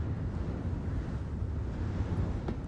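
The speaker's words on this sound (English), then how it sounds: "Sounds pretty windy as well." Steady wind roars outside on a planet surface in Star Citizen, a continuous broadband rush with low rumbling gusts, close and even throughout with no voices.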